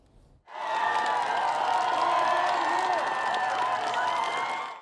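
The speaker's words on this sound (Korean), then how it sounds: "지지자들의 환호를 받으며" Supporters cheer outside the National Assembly. Their loud, steady crowd roar starts abruptly and continues unbroken for several seconds.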